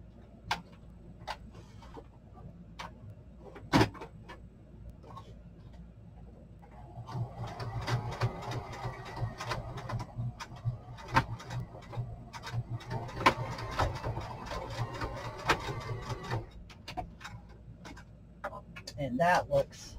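A sewing machine stitches a small ruffle onto a crafting piece in short bursts of quick rapid ticking, set apart by quiet pauses and single clicks, with someone talking softly nearby.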